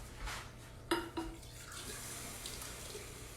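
Simple syrup poured from one vessel into another, a brief splashy gush with a couple of sharp knocks followed by a softer trickle fading out, close and quiet with no talking.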